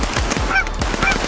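Geese honk repeatedly as a flock flies in during a bird hunt, several loud overlapping calls close by with no talk.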